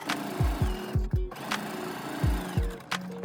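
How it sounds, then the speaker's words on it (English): A sewing machine runs a straight stitch through fabric cut from men's dress pants, with short bursts of whirring and rhythmic thumping separated by brief stops and a few sharp clicks. "Then just sew a straight stitch on it."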